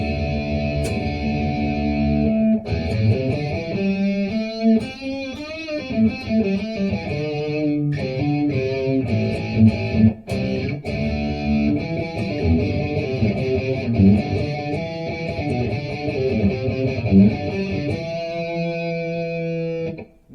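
A Jackson Adrian Smith SDX electric guitar with a Super Distortion pickup plays a continuous run of heavily distorted chords and riffs, loud and sustained, with no voices.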